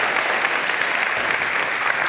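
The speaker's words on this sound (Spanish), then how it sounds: "Demos un aplauso" A church congregation applauds in a dense, loud, continuous burst of clapping that fills the whole moment without letting up.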